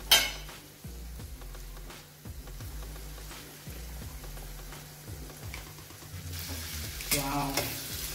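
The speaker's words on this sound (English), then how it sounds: "now we are going to put our chickpeas in" Chickpeas fry in a hot pan with a steady sizzle while a utensil stirs and scrapes them in regular strokes. The sound is close, with a clang at the start and brighter spatters near the end, and no one speaks.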